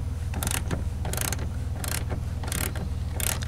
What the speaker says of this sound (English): I'm going to take my ratcheting Allen wrench and go ahead and close down the liquid line, the smaller line.